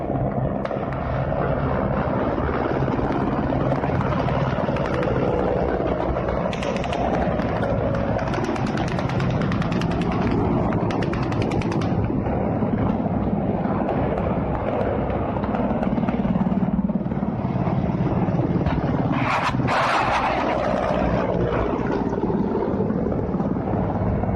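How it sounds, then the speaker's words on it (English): Military helicopters flying in over a combat zone during the invasion of Ukraine, a loud continuous rotor and engine roar filling the scene, with gunfire crackle and brief bursts mixed in throughout. "These choppers are going to come into your view right in the center of the video here."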